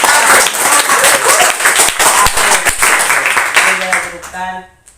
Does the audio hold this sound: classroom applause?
yes